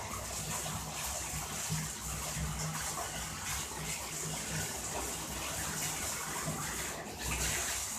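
Water runs from a tap in a steady, continuous gush, moderately loud and close, with no speech over it.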